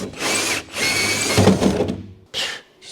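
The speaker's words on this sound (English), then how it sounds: "Just drill a hole in the back of the door." A power drill bores a hole through the back of a car door with filler in it, two loud close whirring bursts with a short pause, then a brief third run.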